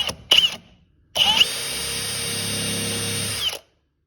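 A power drill whirs in two bursts while building library bookshelves: a brief double spin, a pause, then a steady, loud run of about two and a half seconds that stops abruptly.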